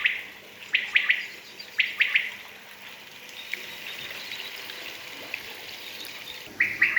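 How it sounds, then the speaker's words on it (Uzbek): A canary sings at a teahouse with pools, giving bright, quick bursts of chirps and trills in clusters with pauses between, over a soft background of running water. "Mana kanareja sayrab turibdi."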